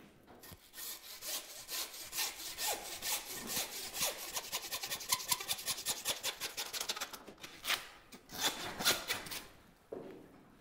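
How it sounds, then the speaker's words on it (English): A handsaw cuts through a bison short loin on a hind quarter, making close, rhythmic back-and-forth rasping strokes that speed up into a quick series and then pause near the end. "we're gonna go ahead and use our handsaw to remove"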